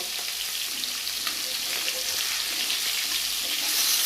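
Rui fish frying in hot oil in a pan as it is flipped, a steady dense sizzle running throughout with some rustle of handling, close and fairly loud, no talk.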